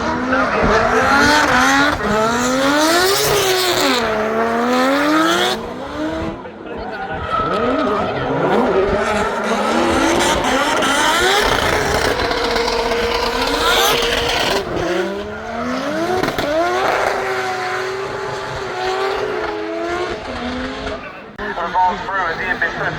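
Drift cars, including a supercharged LS-swapped 350Z, skid through clipping points with long squealing tires and rising, falling engine revs, loud throughout under an excited commentator's voice.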